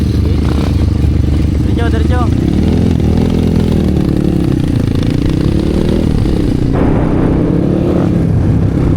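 A motorcycle engine idles on a dirt trail with a steady, loud low rumble and some clatter, while people talk over it nearby.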